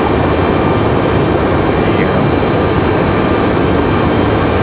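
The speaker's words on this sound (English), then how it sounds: "So you can see Breeze Airways at A220 headed up the hill." Breeze Airways Airbus A220 jet at Raleigh Durham airport, a steady broadband engine roar heard from a distance, continuous and even in level throughout with no talk.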